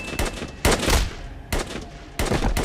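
Gunfire from the film The Purge: Election Year rings out as four loud, separate bursts over under three seconds, each a sharp crack with a trailing rumble.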